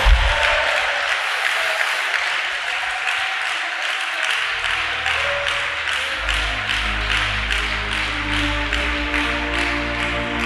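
A church congregation claps during a sermon, with dense, loud, sustained applause and rhythmic hand claps filling the room while a sustained low musical tone swells underneath.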